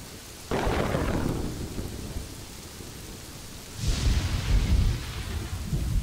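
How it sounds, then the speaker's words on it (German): Steady rain and rumbling thunder from the game Kingdoms and Castles, with one sharp thunderclap early on that fades into a long rumble, then a second heavy roll of thunder, all without voices. "Dann, Gewitter."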